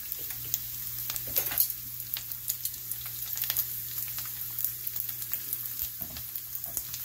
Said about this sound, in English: Pepperonis are still cooking.